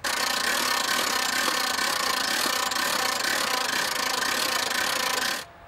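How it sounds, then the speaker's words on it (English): A Jayco camper trailer is wound up by hand crank, giving a continuous loud grinding, rasping mechanical drone that runs steadily close by before stopping abruptly at the end. "And then we'll continue to wind the camper up."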